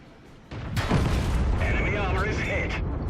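Tank cannon fire in World of Tanks, with a Cromwell in play: a heavy boom lands about half a second in, then a rumbling decay and a ringing, warbling tail, fairly loud and close.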